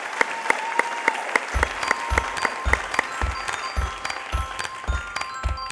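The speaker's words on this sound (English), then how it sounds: "Let's get another round of applause for Natalie." Applause from the audience at a school district awards ceremony, with crisp individual claps pulsing over a background wash of clapping while music or a tone plays underneath, the beat thumping regularly throughout.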